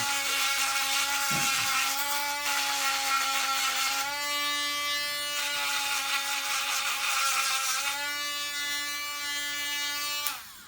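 A Ryobi 4V cordless USB lithium rotary tool grinds at a high, steady whine close by, its pitch dipping slightly as it is pressed into the work, then cutting off at the end.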